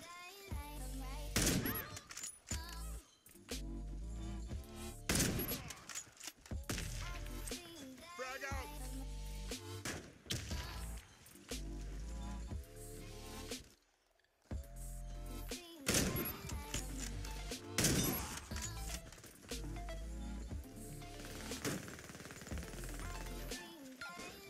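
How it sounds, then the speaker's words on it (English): Gunfire in the Warface shooter game, rapid bursts and single shots fired repeatedly across a busy firefight, loud and dense with brief lulls, mixed with game music and effects. "Our number 5 spot is going to Wildcat, getting a 6k, hitting some nice shots, and also picking up 2 different guns while he's at it."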